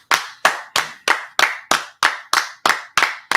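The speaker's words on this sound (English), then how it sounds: "Clap it up" Ten sharp hand claps land in a steady, slightly quick rhythm, each one a crisp close smack with a short ring. They come alone, with no voices, at a brotherhood class gathering.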